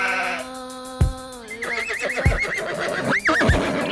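A horse whinnies loudly, with a long, wavering neigh and a second shrill whinny near the end, accompanied by a few sharp knocks and thuds in a farm animal setting with donkeys and sheep around.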